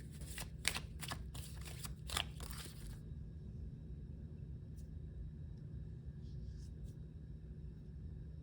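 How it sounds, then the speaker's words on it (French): Tarot cards handled and drawn from a deck, a quick run of crisp shuffling riffles for about three seconds, then near silence with a few faint taps over a low background hum. "Alors je vais juste prendre quelques cartes de celui-là."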